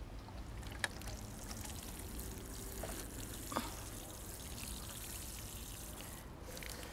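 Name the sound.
watering can pouring water onto planted seeds in a flat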